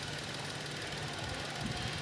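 A Tata Nexon BS6 petrol engine idles smoothly after an ignition coil misfire fault has been fixed, giving a quiet, even, steady hum with no stumbling, heard close with no voices.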